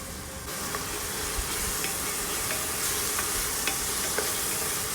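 Tomatoes sizzle steadily in a hot pan with salt while a utensil scrapes and stirs now and then, a close, continuous crackling hiss.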